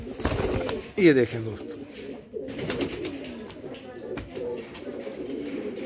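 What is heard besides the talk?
Tonk Kasni pigeons cooing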